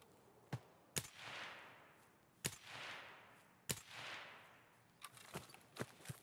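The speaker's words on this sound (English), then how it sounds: "Someone shooting..." Distant gunshots in Escape From Tarkov ring out as sharp single cracks spaced a second or more apart, each trailing off into a long rolling echo, with a few quicker, fainter pops near the end.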